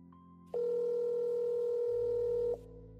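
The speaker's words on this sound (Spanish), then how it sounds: "Saqué el teléfono y marqué." A telephone tone sounds for about two seconds, loud and steady, then cuts off abruptly, with quiet background hum before and after.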